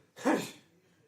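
One short, breathy sneeze bursts out close by in a quiet room, rising sharply and fading within half a second.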